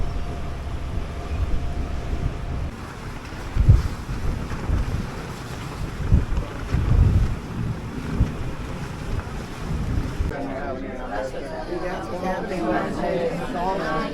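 Strong wind buffets the microphone in low, rumbling gusts over sea noise aboard a cruise ship in Dublin, with a faint voice audible toward the end.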